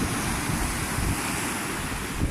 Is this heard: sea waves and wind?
yes